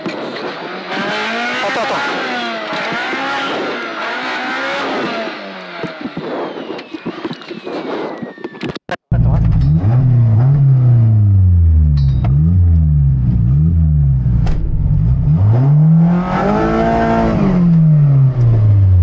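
A rally car in Corsica accelerates and revs loudly, its engine note rising and falling in repeated sweeps, with a brief cutoff midway before a steady, close, heavy roar resumes; people talk over the engine throughout.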